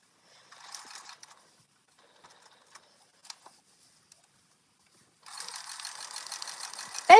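A sewing machine stitches a small rectangle of fabric: brief whirring bursts with scattered mechanical clicks and pauses, then a steadier, louder run of stitching near the end, with no talking.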